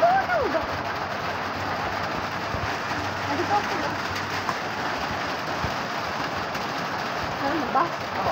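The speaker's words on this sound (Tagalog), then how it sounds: "umuulan na." Rain falls steadily in a continuous hiss, with occasional faint chirps and distant background noise mixed into the downpour.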